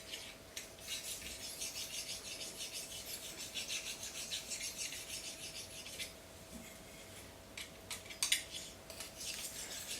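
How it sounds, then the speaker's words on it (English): A slicing knife edge is polished on a sharpening stone in repeated rasping strokes, a quiet, close scrape in an uneven back-and-forth rhythm with brief pauses between passes. "I usually do about 2 up and back passes with this stone"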